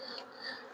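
Honeybee drones buzz inside a hive during a colony inspection among frames of brood, a steady close-up droning hum that runs unbroken through the short moment.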